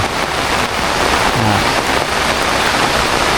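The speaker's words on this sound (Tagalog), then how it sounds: "Ulanan yun." Heavy rain pours down steadily over crops, a loud, dense hiss of drops pattering on surfaces with no break throughout.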